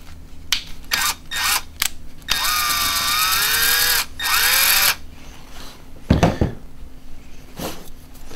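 Power drill used while installing a Torqeedo motor on a Hobie Outback kayak, running in several short bursts and one longer whining stretch, with ratcheting clicks between runs and a loud knock near the end.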